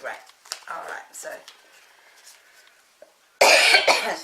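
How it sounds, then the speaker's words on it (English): Several harsh coughs from a woman with a lingering bad cough, close and fairly loud, broken by pauses of quiet breathing before a final burst of heavy coughing. "I still have this terrible cough"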